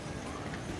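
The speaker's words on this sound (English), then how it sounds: "the eight horse hitch" Hooves of an eight-horse hitch clip-clop at a state fair, a brief, steady patter of hoof falls against a noisy, crowded outdoor backdrop.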